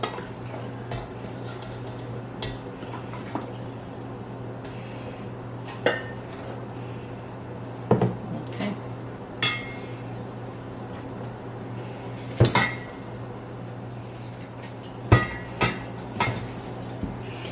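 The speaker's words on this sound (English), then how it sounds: "you mix this up until it's good and shaggy and all the flour has been moistened" Sourdough bun dough with flour being mixed in a bowl: soft scraping and stirring under a low steady hum, punctuated by several sharp clinks and knocks of utensil against the bowl.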